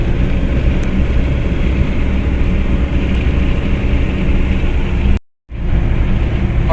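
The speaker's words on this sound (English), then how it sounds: "You could probably hear the wind noise." Inside a 1992 Geo Tracker at 60 mph in fifth gear, a loud, constant roar of wind and road noise mixed with engine drone fills the cabin, cutting out abruptly for a split second near the end.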